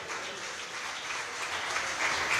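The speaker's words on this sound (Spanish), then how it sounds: "¿Cuántos le dan un fuerte aplauso al Señor?" A church congregation applauds: a thick, continuous roar of many hands clapping, steady and fairly loud, swelling slightly near the end without any speech on top.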